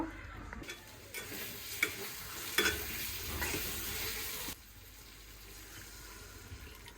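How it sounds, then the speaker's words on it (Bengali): Ground spices (turmeric, chili, coriander, cumin, garam masala, salt) sautéed in oil with stirring, a soft sizzle and intermittent spoon scrapes that drop to a quieter hiss partway through; no speech. "এখন ভালোভাবে কষিয়ে নিই পরে চিকেনটা দিয়ে দিব"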